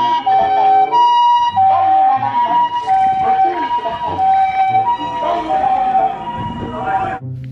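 A toy ambulance's electronic siren wails loudly and continuously, its wavering two-tone pitch cycling throughout before cutting off near the end, with rattling toy noises underneath.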